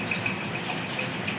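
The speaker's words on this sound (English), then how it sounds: "You could see that person is filling the water" Water runs steadily from a tap as a water seller fills containers outdoors on a rainy day, a close, constant gushing stream with no talking.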